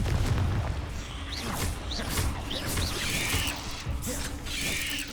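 Confringo fire-blast spell exploding in Hogwarts Legacy: a booming blast followed by rumbling and whooshing magical effects with bright chiming flourishes, loud and near, no talking.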